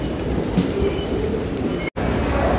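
A train rumbles past in Tokyo as a loud, steady close roar of wheels and carriages, with a faint high squeal and one brief sharp dropout near the end.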